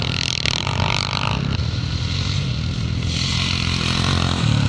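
Vintage motocross motorcycles including a Jawa, Cotton and BSA racing at a classic scramble in Forfar, a busy mix of revving two-stroke and four-stroke engines with clattering, fairly close and steady.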